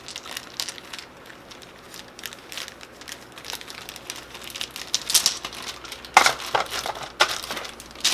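Plastic bag of two-coloured and six-sided board game dice handled and opened up close, with crinkling plastic and dice clicking and rattling, getting louder near the end.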